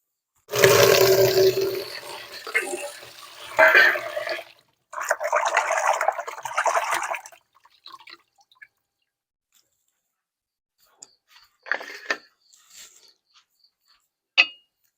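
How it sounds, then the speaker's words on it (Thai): Pork belly rinsed under a running tap, with a loud gush of water for the first few seconds, then more bursts of splashing and trickling, followed by sparse drips and a few faint handling sounds. "เนื้อหมูต้องเอาไปล้างกันครับ เพราะอยู่ที่เคียงก็อาจจะไม่สะอาดนะครับ"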